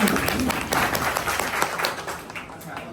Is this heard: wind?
no